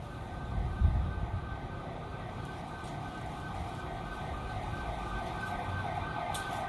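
A police car siren passes outside, a distant, steady wail that holds at a moderate level for the whole stretch under a constant background hum, with no talking.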